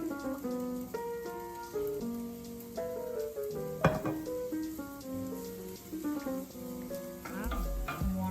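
A soy mixture for vegan pupusas fries in oil with a constant crackling sizzle like light rain, running steadily beneath tonal background music.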